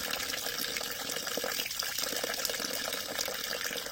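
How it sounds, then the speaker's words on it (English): Water splashes and swishes continuously at low volume as rice is rinsed and stirred in a bowl, with no voices. "Being washed with water."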